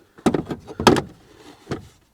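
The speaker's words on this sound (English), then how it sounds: "So I'm just going to push this mirror in." A door mirror on a Vauxhall Vivaro van is pushed into place, giving three short plastic clicks and knocks, close and distinct against near silence.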